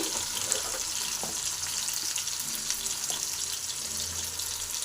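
Two cut tomatoes frying in a pan, a steady hissing sizzle with faint occasional stirring taps, moderately close and without talk.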